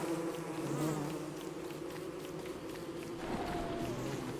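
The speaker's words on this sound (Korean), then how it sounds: "근데 빨간 벌이 쫓아오는데" Red bees in the game Don't Starve Together buzz steadily and fairly close in a continuous insect drone, with faint shuffling steps underneath and no voices.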